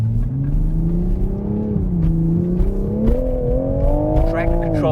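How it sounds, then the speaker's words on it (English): A 2025 Toyota Supra accelerates hard, its engine note climbing steadily in pitch as traction control fights for grip on cool tires, loud and close from inside, with someone talking over it. "Traction control struggling for grip there."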